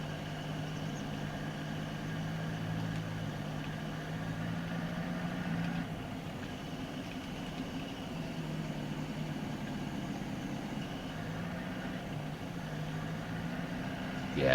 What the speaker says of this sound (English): Yeah, I love the throaty engine on this.